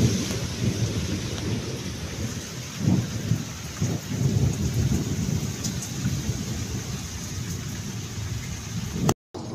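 Heavy pre-monsoon rain with rolling thunder during a Kalbaisakhi storm in Odisha, a steady loud roar of downpour with deep thunder rumbles swelling around the middle, no voices.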